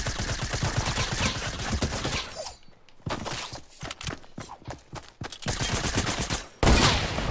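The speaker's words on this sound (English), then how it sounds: "Oh shoot, he actually sniped me" Rapid gunfire crackles through a Fortnite battle, with a sniper rifle shot among the loud bursts of repeated shots, broken by short quiet gaps.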